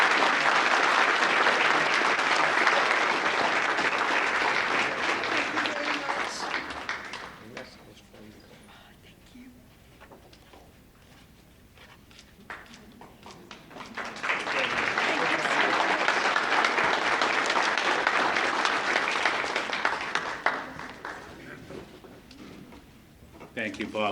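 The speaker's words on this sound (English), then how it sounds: "let's give her a round of applause" Audience applause at a United Way community thank-you event, loud sustained clapping for several seconds, dipping to quieter scattered claps, then swelling again into a second full round.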